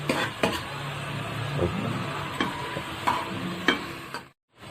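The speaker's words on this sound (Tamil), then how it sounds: "வெங்காயம் நல்லா கலர் மாதிரி பொன்னிறமாக வர்ற வரைக்கும் ஒரு 5 நிமிஷம் நல்லா வதக்கலாம்" Onion and crushed garlic sautéing in a pan for country chicken curry, a steady soft sizzle broken by repeated scrapes and light clinks of a spoon against the pan, close and continuous until it cuts off near the end.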